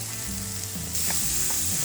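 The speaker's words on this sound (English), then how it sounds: "We're just going to fry those up into little tiny bacon bits." Two strips of bacon, cut small into bits for a jalapeno popper filling, sizzle and fry in a pan with a steady close crackle, a low hum underneath and a brief louder hiss partway through.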